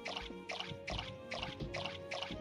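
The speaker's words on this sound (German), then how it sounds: "Ich muss noch gießen." Watering plants with a watering can in the game Core Keeper: six evenly spaced splashy, pouring bursts repeat about every half second, steady and close, with no talk.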